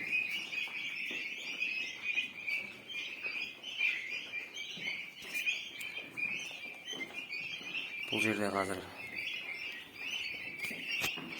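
Around a hundred turkey chicks, including freshly hatched and very small ones, keep up a continuous shrill peeping chorus in a poultry house, with someone briefly speaking over it partway through.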